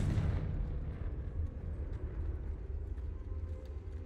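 A Confringo explosive spell goes off in the video game Hogwarts Legacy: a loud, low booming blast at the start that rolls on as a dense rumble through the whole clip, with no talk over it.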